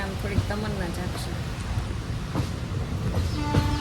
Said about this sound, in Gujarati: ટ્રેન આપણી ઉપડી ગઈ છે